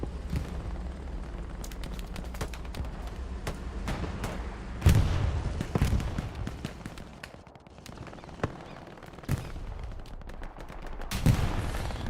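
Gunfire and rocket blasts from the World War II shooter Hell Let Loose, with a long-range rocket striking a Panzer IV tank: dense bursts of shots and sharp explosions crack out repeatedly over a constant rumbling battlefield.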